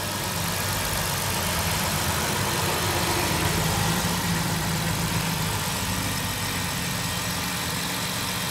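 A 2008 Dodge Caravan engine idles with a steady, close, rumbling drone that holds even throughout, with no talk.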